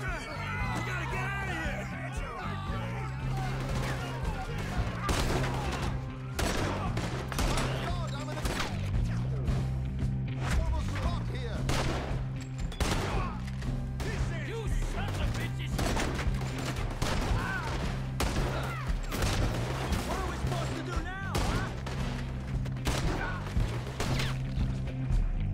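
Gunfire rattles through a shootout in the video game Red Dead Redemption 2, with repeated sharp shots over a steady rhythmic music bed and occasional voices.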